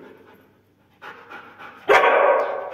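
A Samoyed dog during a training session gives a few short barks and pants, a loud burst toward the end, close by with no talk over it.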